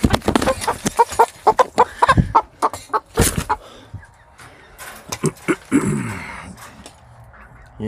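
Chickens cluck and squawk close by as they are rounded up and put away, busy irregular calls among handling noises, with a brief rustling scuffle toward the end.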